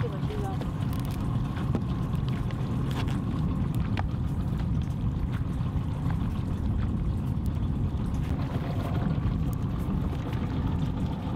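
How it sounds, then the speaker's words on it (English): An outboard-powered fishing boat runs on inshore saltwater off Jupiter, Florida, giving a steady, loud low motor drone mixed with wind and water rush that holds unbroken for the whole stretch. "Nice boat ride."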